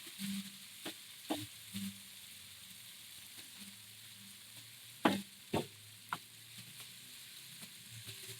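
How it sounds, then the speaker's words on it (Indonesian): Chicken skin sautés quietly in a pan, making a soft, low sizzle under scattered stirring clicks and scrapes, with a couple of sharper knocks in the middle and no talk. "Setelah itu baru kita tuang kulitnya. Nah, kita tumis."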